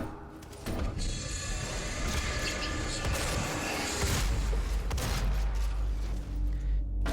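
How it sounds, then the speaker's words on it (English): A shotgun fires in the DOOM video game in rapid, dense bursts amid heavy, continuous combat noise that stays loud from start to finish. "Let's just stick to shotgun for now."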